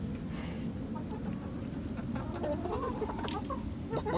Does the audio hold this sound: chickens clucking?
yes